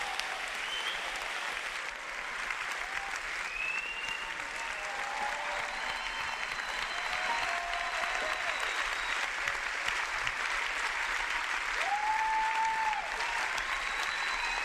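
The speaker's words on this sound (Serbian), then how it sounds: "I molim vas zato veliki aplauz za gospođu Tanju Bošković" An audience applauds at the closing ceremony of the Niš film festival, a dense, steady wash of clapping lasting throughout, with faint tonal sounds over it.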